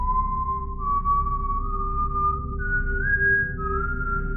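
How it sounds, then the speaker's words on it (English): A soft, steady whistle drifts in a long sustained tone, its pitch slowly stepping upward in small glides over a low rumbling background, with no voices present. "They hear a soft whistle behind them."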